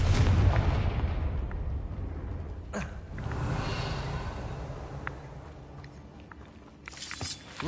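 A Confringo blasting spell from Hogwarts Legacy goes off in a heavy, booming explosion that opens the clip, then rolls off into rumbling debris and a fading tail, with a smaller crack partway through.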